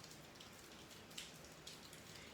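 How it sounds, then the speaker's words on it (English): Rain falls steadily around a porch at night, a soft continuous patter with a few slightly sharper drops now and then, quiet and fairly distant, with no voices. "It's raining tonight, and it's such a welcome, different noise than fireworks."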